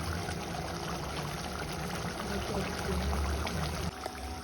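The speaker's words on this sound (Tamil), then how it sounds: "இப்போ இதுக்கு தேவையான அளவு வந்து புளிக்கரைசல் எடுத்து வச்சுருக்கேன் அதையும் ஊற்றிக்கலாம்" Tamarind water poured into frying masala for kara kulambu with dried turkey berries makes a continuous splashing, trickling rush mixed with a soft sizzle, close and moderately loud, easing off near the end.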